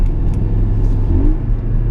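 A Porsche 718 Cayman GTS with its 2.5L engine, set to Sport Response mode, gives a close, loud, deep rumble that holds steady through the short burst.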